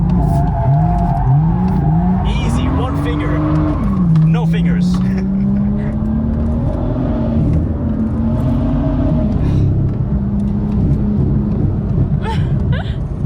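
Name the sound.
car drifting with tire squeal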